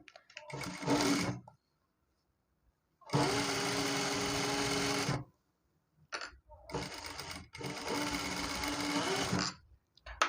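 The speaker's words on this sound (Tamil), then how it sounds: "பிசுறு வந்து உள்ளே போகிற மாதிரி வச்சு ஒரு தையல் போட்டுக்கலாம்." Sewing machine stitching gathered pant fabric, running in three close bursts of steady rapid whirring separated by short silences.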